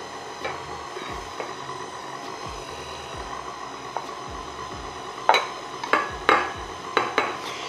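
A cream mixture for a requeijão tart being beaten, a steady whirring and scraping in a bowl with a rhythmic low pulse, then several sharp clinks and knocks toward the end.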